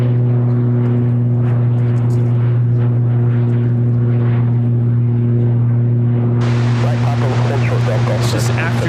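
Southern Airways Express Cessna Grand Caravan turboprop taking off at Chicago O'Hare, steady droning engine hum at a distance, rising into a broader roar near the end, with a voice talking over it.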